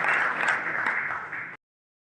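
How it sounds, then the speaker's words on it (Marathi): Audience applause at a farewell and welcome ceremony for a Solapur Zilla Parishad CEO, a dense steady burst of many hands clapping for about a second and a half before stopping abruptly. "सर्वांना जोरदार टाळ्या"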